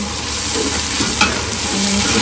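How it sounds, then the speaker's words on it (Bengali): Ginger, kebab masala, turmeric and chilli stirred in hot oil, a loud, close, continuous sizzle with a faint scrape of the spoon, no voices. "তেলে নাড়াচাড়া করে নিচ্ছে দেওয়া হয়েছে কাবাব মশলা হলুদ মরিচ হ্যাঁ মরিচ নাড়াচাড়া করলাম"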